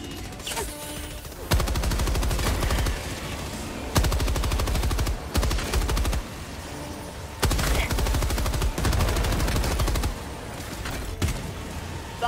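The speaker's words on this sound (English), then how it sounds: "What is that? A machine gun?" Long bursts of rapid machine gun fire in the co-op shooter Helldivers 2, loud and close, come in repeated sustained volleys separated by brief pauses, with no talk.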